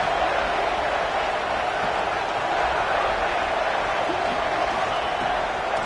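Football stadium crowd roaring steadily on a big third down in a Boise State versus Colorado game, a loud, continuous wash of cheering with no breaks.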